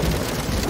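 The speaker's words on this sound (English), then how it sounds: "Mr. Frog, why would you want to make rain sounds on your keyboard?" A toy keyboard plays a rain sound effect, a dense, even hiss of falling rain that stays loud and steady for a brief moment.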